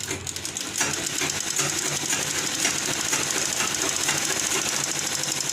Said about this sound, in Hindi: अब इसको यहाँ से मैं सिलाई चलाना स्टार्ट करूँगी